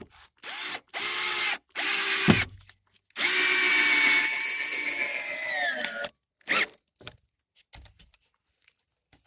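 A Black & Decker 20-volt battery drill drives screws into a 2x4, with several loud whirring bursts of the motor, one sustained long run as a screw sinks in, and short trigger taps between them, close up with no talk.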